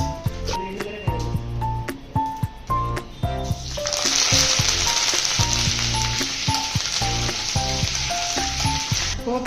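A tempering of two red chillies and seeds crackles and sizzles in hot oil, with sharp popping bursts at first that settle into a loud, steady hiss, alone without talk.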